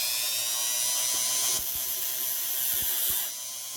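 A Dremel rotary tool with a sandpaper attachment sands a metal skeleton key. It gives a loud, steady high-pitched whine close by that shifts tone twice as the bit meets the metal.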